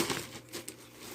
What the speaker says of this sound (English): I'm going to take all this plastic